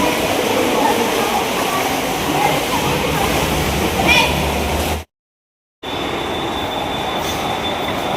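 A train pulls into a railway station with loud, close rumbling and rattling, and the wheels squeal along the way. The noise breaks off briefly in a moment of silence, then resumes more quietly as the train slows.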